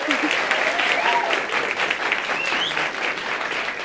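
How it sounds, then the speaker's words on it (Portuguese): Studio audience applause on a Brazilian interview program about religious diversity, a dense, steady round of clapping throughout with faint voices beneath. "Palmas para ele, gente."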